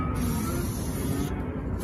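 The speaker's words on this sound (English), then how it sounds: "the little spray nozzle kind of helps you get, you know, into the places that are" A spray nozzle hisses wax undercoat onto an INEOS Grenadier, giving a loud, steady, continuous spray that runs almost unbroken for the whole stretch.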